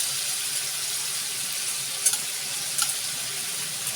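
Yogurt sizzles in a karahi of frying boiler chicken, giving a steady, loud hiss with a couple of brief clinks of a utensil partway through.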